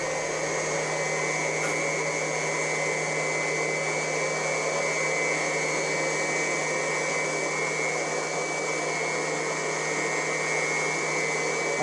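Vinegar flushing through a tankless water heater and flowing out of a hose, a steady rushing hiss with a constant pump-like hum underneath, even and unbroken throughout.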